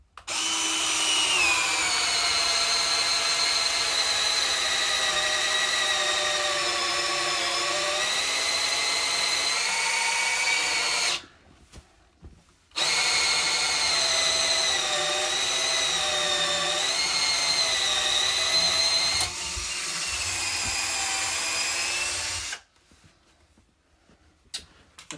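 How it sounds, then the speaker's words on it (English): A cordless drill bores a 15mm hole in timber, its motor whining loud and close in two long sustained runs with brief pauses between, pitch sagging slightly under load. "we're drilling, I think that's a 15mm hole."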